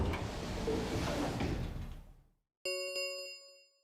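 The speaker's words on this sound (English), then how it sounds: "the metallic rumble of the doors closing echoed through the warehouse" In Virtue's Last Reward, heavy metal warehouse doors rumble shut with a loud, broad roar that fades to silence, followed by a single bright ringing chime.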